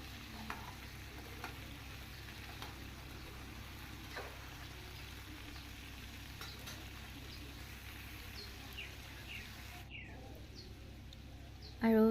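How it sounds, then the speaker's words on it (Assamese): Pointed gourd and chickpeas fry in a pan with a soft, steady sizzle that stays fairly quiet throughout. Faint bird chirps sound in the background, and a brief louder clatter comes at the very end. "এইখিনি মই ভাজি লম"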